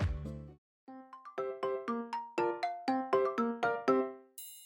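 School bell chime ringing in a classroom, a clear melodic sequence of about a dozen bright bell-like tones in a steady rhythm, fairly faint and alone.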